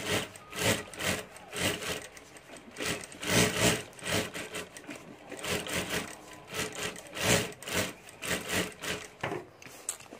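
A sewing machine stitches fabric for a homemade lunch box in rapid bursts, its motor whirring up and down in an uneven rhythm close by, with no talking.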